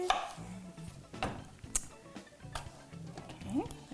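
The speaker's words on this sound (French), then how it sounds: "Là, je coupe autour du noyau ici." A knife cutting around the stone of a peach on a board, with soft irregular taps and slicing sounds beneath someone speaking French nearby.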